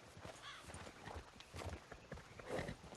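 Hooves clip-clop at a walking pace over faint background ambience, with a horse snorting softly near the end, in the video game Red Dead Redemption 2.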